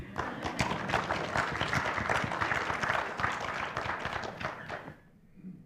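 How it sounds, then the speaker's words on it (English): Audience applause at a county commissioner candidate debate: dense clapping from a crowd fills the room for about five seconds, then cuts off sharply into near silence with a faint voice at the end. "we can give a round of applause now that it's the last person"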